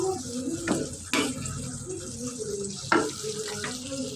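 A paste of mustard, onion and green chili being sautéed in a pan on a raised flame, with a soft steady sizzle and a few distinct stirring scrapes, fairly quiet and close.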